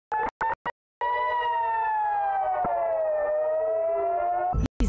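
Air raid siren sounding in northern Israel in news footage: a long, steady wailing tone that slowly falls and rises in pitch, loud and sustained, preceded and followed by brief bursts of sound.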